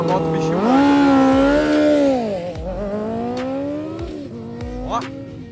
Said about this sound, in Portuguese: Ah, é bom dar um burnoutzinho.